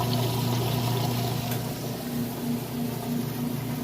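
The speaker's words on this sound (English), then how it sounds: "we're moving on to the rinse cycle, so it's draining out that wash load water. You can hear it draining." Whirlpool washing machine draining its wash water before the rinse cycle, a steady rushing pour of water with a low pump hum underneath, continuous and moderately close, with no voices.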